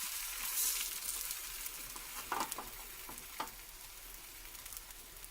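An egg fries inside a slice of bread in a pan with a soft, steady sizzle. A few faint scrapes and taps cut through the quiet hiss. No one talks.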